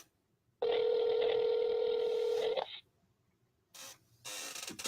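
A telephone call ringing out: a loud, steady electronic ringback tone holds for about two seconds, then silence, followed by brief bursts of line noise.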